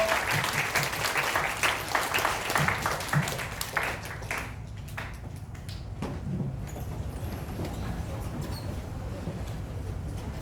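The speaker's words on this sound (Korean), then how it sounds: "우리 예배를 받아주신 하나님 감사의 박수 하겠습니다." A church congregation claps after the Sunday service in a steady, dense burst of applause that fades after about four seconds, leaving softer scattered claps and room noise.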